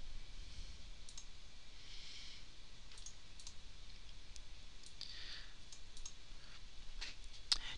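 A computer mouse gives faint, sparse clicks in a game editor, single sharp ticks scattered over a quiet hiss.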